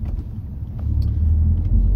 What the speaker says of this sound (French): à peine on accélère comme ça sur un rapport intermédiaire à peine à 50